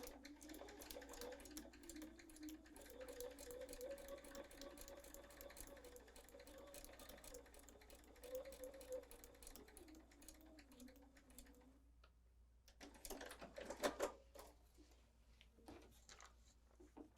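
Sewing machine stitching quilting fabric out into the seam allowance, a fast steady needle chatter running for several seconds, briefly stopping, then restarting in a short burst.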